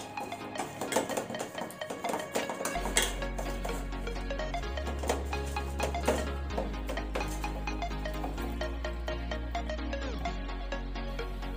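Pieces of katla fish being mixed with salt and turmeric in a bowl: scattered close clinks and scrapes of utensil against dish, over steady background music.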